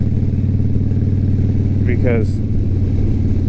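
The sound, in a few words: Indian motorcycle exhaust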